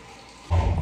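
A sponge is wet under running tap water while cleaning a bathroom: after half a second of quiet, a loud, close, steady gush of water splashing onto the sponge starts and continues to the end.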